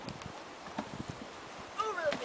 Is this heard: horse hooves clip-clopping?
yes